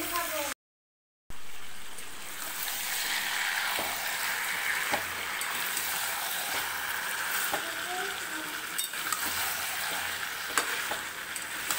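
Meat being sautéed in a wok over steady heat, cooked down to drive off its raw smell: a continuous close sizzle with occasional stirring scrapes throughout, and no voices.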